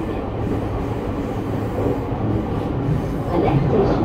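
JR Shonan-Shinjuku Line E231-1000 series commuter train with an unrenewed Hitachi IGBT-VVVF inverter, running between Ofuna and Zushi and heard from inside the car as a steady loud rumble and hum, with no talking.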